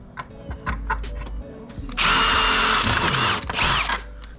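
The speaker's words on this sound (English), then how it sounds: "All right, so I just pre-drilled there." Power drill pre-drilling a hole in a wooden door to fix a latch, short loud whirring bursts rising to a steady drilling run with a few tool clicks and handling noises around it.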